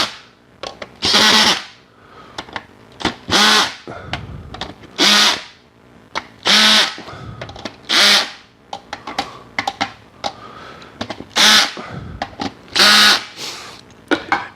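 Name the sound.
power drill pulling down drum head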